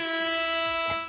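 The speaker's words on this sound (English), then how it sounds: "Is that an air horn?" A loud, sustained air horn blast with a rich stack of steady harmonics holds for about a second before cutting off, standing alone.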